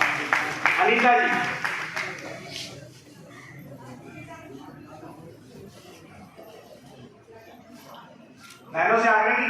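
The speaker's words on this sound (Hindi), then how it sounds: "जोरदार तालियों से अभिनंदन सभी बहनों का।" Applause rises from an audience honouring a group of women at a community gathering, with loud clapping in the opening seconds, a quieter stretch of talk and murmur, then a renewed burst of clapping near the end.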